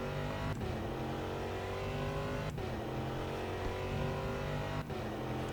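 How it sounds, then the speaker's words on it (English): Prototype race car engine in the rFactor 2 racing game, a loud continuous high-revving roar with three sharp gear-change breaks spaced a couple of seconds apart, heard alone. "I don't know that I've heard many better sounding cars in rFactor 2."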